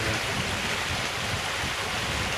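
Continuous rushing of a mountain creek at a hiking-trail water crossing, a steady broadband wash with no pauses, close and fairly loud.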